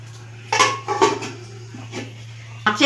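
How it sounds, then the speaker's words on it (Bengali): Metal pot clatter as a lid is set onto a tiffin carrier on a stand inside a water-filled wok: a few close clanks and scrapes over a steady low burner hum. "এরপরে এই ঢাকনাটা দিয়ে দেবো।"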